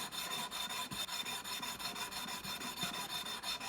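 Guitar frets being sanded with 400 grit abrasive, a close, steady back-and-forth rasping rub in quick regular strokes with no talking.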